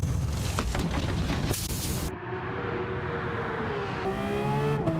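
Race car in a racing video game pulling out of the pit lane, a loud continuous engine roar with rising revs and shifting tones, dense and close throughout with a brief drop in intensity midway.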